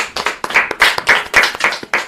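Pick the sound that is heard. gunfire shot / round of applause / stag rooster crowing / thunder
round of applause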